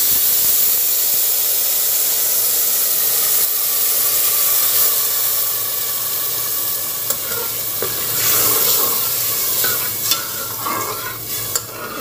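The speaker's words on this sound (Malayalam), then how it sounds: "നമുക്കിതിലേക്ക് ചൂടുവെള്ളം ഒഴിച്ചു വെക്കാം സേമിയ വേവാൻ വേണ്ടി." Hot water is poured into a pan of semiya vermicelli for payasam, sending up a loud steaming hiss and sizzle that carries on with a few sharp clinks near the end.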